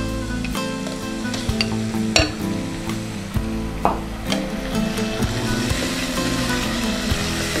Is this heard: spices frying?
yes